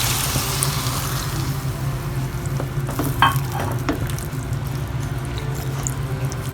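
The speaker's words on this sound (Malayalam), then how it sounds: "രണ്ടാം പാൽ അത് ഇതിൽ ഒഴിച്ചു കൊടുക്കുകയാണേ." Thin second-pressing coconut milk is poured into a simmering mushroom curry in a pan. It gives a steady, close sizzling bubble with soft liquid splashing and stirring throughout, and no talking.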